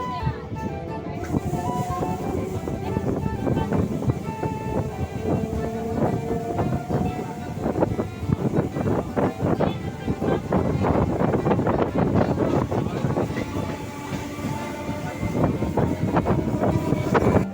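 A moving train heard from beside its open door, with a continuous rumbling clatter of wheels and cold wind buffeting the microphone, loud and steady throughout.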